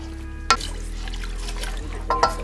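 Water is poured into a pan of cooking satay sauce with peanuts. It makes a short watery splash and trickle, then a second splash near the end, over a steady low kitchen hum.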